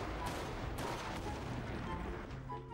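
A free gun fires in Minecraft during a zombie apocalypse, with a couple of short, muffled bangs over a dense, rumbling game background at low volume.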